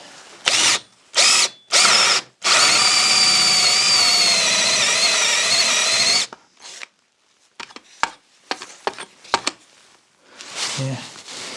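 A Kimo hammer drill whirs in short bursts, then runs steadily for several seconds boring into soft pine, followed by scattered knocks and scraping.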